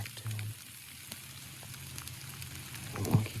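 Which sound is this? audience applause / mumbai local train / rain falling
rain falling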